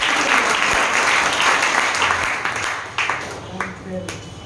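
Loud applause from a large audience at a leadership summit in Bhagalpur, a dense wash of clapping that holds steady and then thins, with voices talking over it toward the end.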